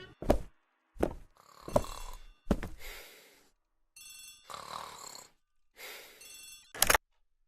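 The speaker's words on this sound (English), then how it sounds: "The telephone in the hall is ringing." A telephone in a hall rings in a radio drama of Agatha Christie's The ABC Murders, with several separate, spaced bursts of ringing that sound moderately close, set against near silence.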